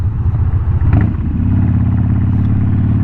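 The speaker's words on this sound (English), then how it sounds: "we got a tractor up here" A tractor rumbles on a two-lane back road in the Ozarks, a steady low engine drone close by with a brief clattering surge partway through, loud and continuous with no talking.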